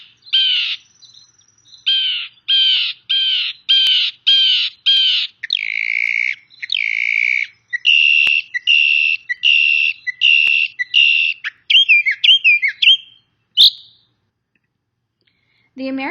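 Garden songbird calls: a series of bright, repeated whistled chirps and tweets in short bursts, close and clear against silence, ending with a few rapid trills and a brief faint low sound at the end.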